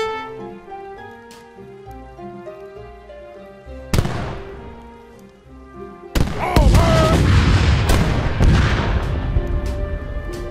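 Artillery cannons fire in the Age of Empires III Battle of New Orleans campaign: a sharp blast near four seconds, then a heavy barrage of booms and crackling explosions from six seconds on, layered over game music.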